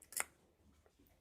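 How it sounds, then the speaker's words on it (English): Scissors snip through tissue paper for a homemade lollipop sweetie tree, giving one sharp, close cut early on and a faint second snip at the end, with quiet pauses between. "Cut the piece of paper up into a square."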